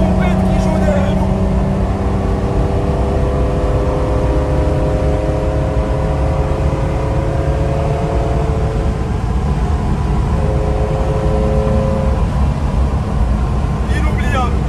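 A Porsche 914-6 flat-six engine revs high while driving through the desert, a steady, loud engine drone with rising tonal harmonics running for the whole stretch, with a little road and wind noise.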